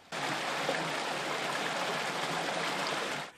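Sewage water discharges into the Talaverna stream in San Nicolás de los Garza, a steady, broad rushing flow that starts abruptly and holds at an even level throughout, with no voices.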